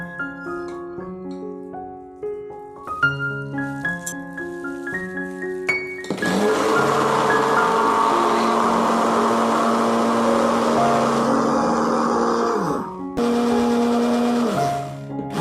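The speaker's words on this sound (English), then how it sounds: "Now I'm going to blend this." A kitchen blender whirs loudly and steadily for about seven seconds while blending a homemade rice body moisturizer, stops briefly, then starts again, following quieter background music.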